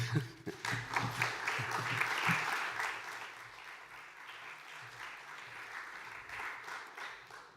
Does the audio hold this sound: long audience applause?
yes